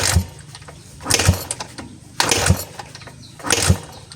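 A Barako 175 motorcycle engine is cranked at full throttle and fails to start, with four rhythmic bursts of churning starter cranking separated by short pauses, loud and close, and no catch.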